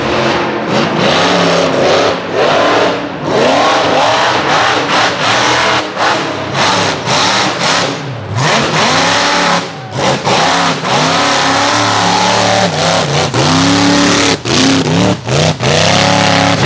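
A rock bouncer buggy's high-horsepower engine revs hard and continuously through a mountain mud run, loud and close, surging and dropping in repeated bursts with no talking.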